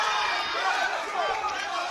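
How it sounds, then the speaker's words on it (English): A fight crowd roars and cheers in a steady, dense wash of voices after a takedown, loud and continuous with no single voice standing out. "Crowd really appreciating that takedown"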